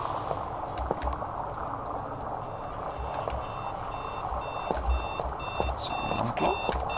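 An alarm clock rings in rapid, repeated bursts of bright electronic beeping that grow steadier and louder over a constant background hum, with no voices.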